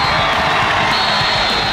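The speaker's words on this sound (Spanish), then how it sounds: "El aplauso de la afición para sus gallos, que dieron pelea en el debut en casa" Home football crowd at a Platense versus Alianza league match, applauding and cheering the team after a 2-2 draw: a loud, dense, continuous wash of clapping and shouting voices close around.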